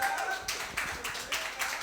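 Brief scattered clapping from a small audience at a live spoken-word night, a few seconds of uneven hand claps with voices murmuring underneath.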